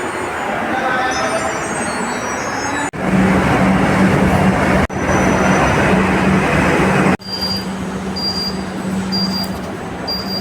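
A metro train at a station platform, a loud, close rumble of rolling carriages whose intensity shifts in abrupt sections, with a low steady hum and faint high squeals running through it.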